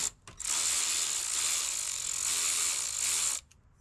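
Ratchet wrench loosening 10 mm bolts on the radiator fill of a Toyota Yaris, a rapid continuous clicking run lasting about three seconds, close and clear, briefly stopping and resuming.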